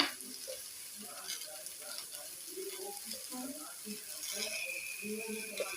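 Soybean curry frying in a pan as cumin seeds and salt go in, giving a steady broadband sizzle with faint scattered crackles and clinks throughout, a person talking quietly over the cooking.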